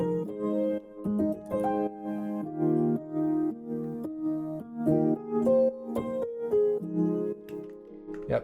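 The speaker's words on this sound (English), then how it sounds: "good way to end off the track is with that nice piano melody, and that's just in Labs Soft Piano Classic plugin" A gentle piano melody from the Labs Soft Piano Classic plugin, mellow sustained chords and single notes moving at a slow, even pace, soft and alone with no voices.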